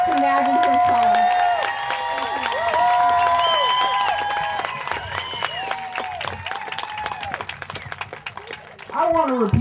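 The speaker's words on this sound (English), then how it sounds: "Please give a loud round of applause to Maggie Hirschhorn." Crowd at an outdoor South Florida rally about Everglades restoration claps and cheers, the applause rising and thinning over several seconds beneath ringing feedback tones and amplified sound, with a loud swell near the end.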